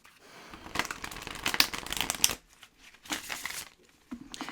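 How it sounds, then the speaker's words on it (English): A deck of tarot cards is shuffled close up in quick riffling bursts, with crisp papery rattles, a short pause, and then another round of shuffling. "Let's give it a big shuffle."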